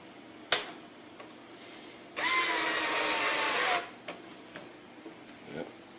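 A power drill bores holes in a vintage table saw under restoration. It runs in one steady, whining burst of about a second and a half, surrounded by sharp knocks and clicks from handling the workpiece nearby.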